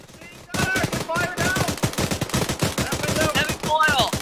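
Rapid video-game gunfire clatters throughout, dense and loud, in a barracks assault with demolition, while several voices shout over the shooting.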